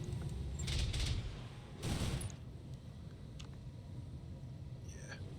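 Bursts of autocannon fire from a mech in the BattleTech video game, two rumbling volleys in the first half, followed by a low mechanical rumble that continues at a moderate level.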